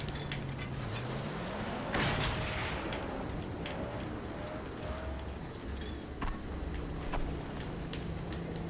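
Gunfire and explosions fill a Mad Max video game battle as a dense, loud rumble with scattered sharp shots and a few heavier booms, all running continuously over an engine-like drone.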